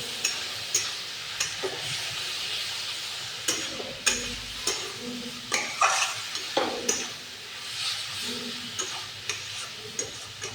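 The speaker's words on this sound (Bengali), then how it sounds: "ধনিয়া পাউডার, মশলা দিয়ে ভালো করে কষিয়ে নেব।" Coriander powder and spices sautéing in a pan for a thin rohu fish curry with tomato and potato, a steady sizzle broken by regular scraping stirs and spoon taps, close and alone.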